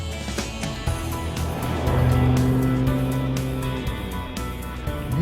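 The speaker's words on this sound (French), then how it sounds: "Nous prenons donc les commandes de la dernière compacte ultra sportive de chez BMW, la M2" BMW M2 compact sports car engine running loud and close, with a steady rumbling drone that swells in the middle as revs rise, then settles; no talking.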